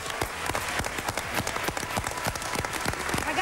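Dense applause from a studio audience at an Italian football television show, steady rapid clapping that fills the whole stretch, close and loud with no talking over it.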